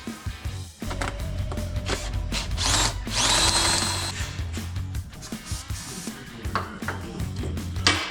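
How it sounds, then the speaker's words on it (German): A power tool cuts air inlet and outlet holes into the casing of a small 12V air conditioner, whining in loud bursts with grinding, rattling pauses between them and a higher screeching stretch in the middle. "Wir werden da jetzt Löcher reinschneiden."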